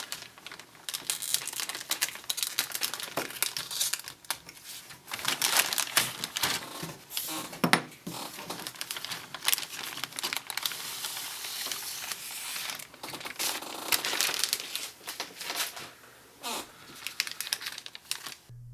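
Plastic bags and cardboard packaging of an Airfix 1/48 Supermarine Spitfire PR.XIX model kit crinkle and rustle as they are opened, a steady close-up stream of crackles and rustles with no talking.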